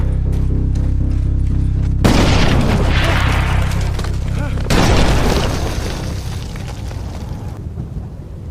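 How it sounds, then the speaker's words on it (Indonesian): Landmine explosions from the 2022 war film Sisu: a deep booming blast bursts in, a second heavy detonation follows, then rumbling debris and a low roar fade out, loud and close. "akibat ledakan ranjau"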